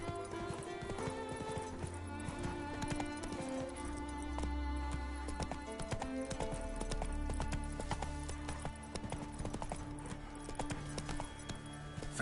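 Roach, the horse from The Witcher 3, trots with a steady run of clip-clop hoofbeats over a busy game background of music and ambience.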